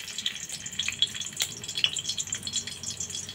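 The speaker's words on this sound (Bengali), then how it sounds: "এরপর সর্ষের তেলে দিয়ে দেব এইখানটায় থেতো করা রসুন কয়েক কোয়া।" Crushed garlic cloves frying in mustard oil in a wok, a steady close sizzle with scattered crackles and pops throughout, no voices.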